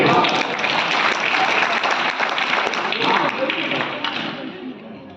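Audience at a Hindi poetry recital breaks into applause, a dense burst of clapping that holds steady for a few seconds and then begins to fade.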